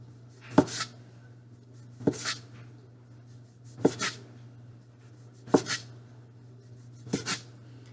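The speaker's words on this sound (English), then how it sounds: "Slice through the entire roll." A knife slices through a rolled sheet of homemade egg noodle dough on a board, giving five sharp, well-spaced cuts, each a crisp tap with a soft follow-through, over a steady low hum in a quiet kitchen.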